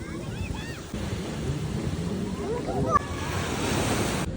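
Ocean waves wash steadily onto the shore with wind buffeting the microphone while people talk close by.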